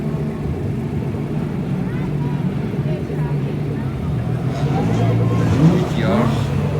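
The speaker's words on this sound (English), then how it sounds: "BMW going in there." A BMW rolls past at a Scottish car meet, its engine rumbling close amid a steady drone of other cars idling and moving, while people talk over the noise.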